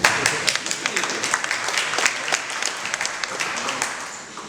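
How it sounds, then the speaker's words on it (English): Audience applause at a technology integration industry event as a sales manager is welcomed onstage, dense clapping that swells at the start and gradually thins out, with a voice briefly heard over it. "A round of applause."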